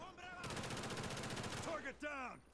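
Sustained automatic gunfire from a teammate in Call of Duty: Black Ops 1, a fast unbroken stream of shots lasting over a second, then tailing off into short sharp bursts and clatter, moderately loud.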